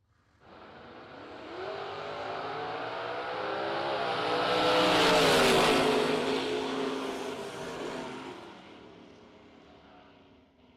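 Drag race pass between a Chevy II and a Ford pickup truck: engines scream past at full throttle, swelling from a distance to a loud peak near the middle and then fading away, with no talk.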